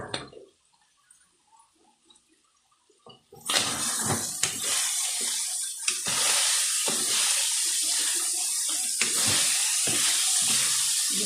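Baguio beans dropped into a pan of sautéing chayote burst into a loud steady sizzle after a few seconds of quiet, with scattered clinks of stirring over the continuous hiss.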